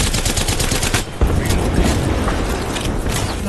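Rapid gunfire from an Apex Legends match, dense bursts of loud shots crowding the whole clip, with a brief dip near the middle before the shooting resumes just as hard.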